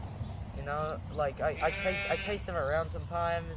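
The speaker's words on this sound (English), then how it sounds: "if you hear some mooing in the background, that's my sheep, because they can't fucking shut up." Sheep bleat repeatedly at a farm, wavering calls rising close by and overlapping a person talking throughout.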